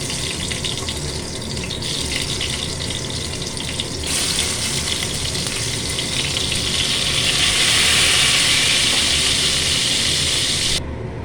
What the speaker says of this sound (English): Now I am frying all potatoes.